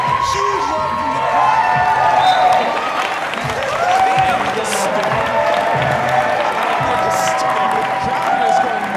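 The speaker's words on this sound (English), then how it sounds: "crowd is going nuts with that love for Jared Davis." A large crowd at a parkour freestyle battle cheers and applauds steadily throughout, with whoops rising over a dense roar of clapping; some voices mixed in.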